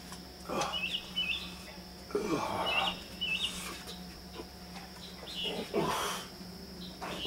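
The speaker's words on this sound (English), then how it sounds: "You still get a good show just listening to that one bird." A single bird sings nearby in short bursts of bright, warbling chirps and trills, separated by brief pauses, over a faint steady background hum.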